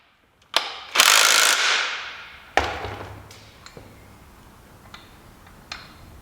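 A ratchet tightens the engine mount bolts on a Ford 1.8 Duratorq TDCi, loud rapid clicking close by, followed by a thud and a few fainter single clicks and taps as the work continues, with no talking.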